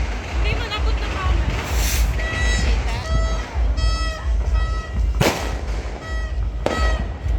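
Sharp New Year's firecracker bangs burst out a few times, one especially loud and crisp, over a noisy outdoor background near the sea with people talking.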